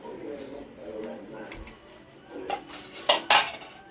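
Pumpkin curry is served onto a dish already filled with rice and other dishes, a soft background hum giving way to a few sharp clinks of plates and cutlery near the end.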